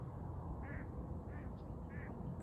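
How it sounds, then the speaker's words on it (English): A duck quacks three times at an even pace, distant and soft against a steady outdoor rumble, with no talking. "I'm hearing a duck in the background."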